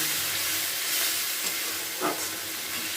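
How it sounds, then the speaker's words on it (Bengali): Tilapia fish curry masala being stirred and sautéed in a pan gives a steady low sizzle and hiss, with one brief scrape of the spoon partway through and no talking. "এটা খুব ভালো করে কিন্তু নাড়াচাড়া করে নিতে হবে বেশ কিছুক্ষণ এটাকে কষিয়ে নিতে হবে"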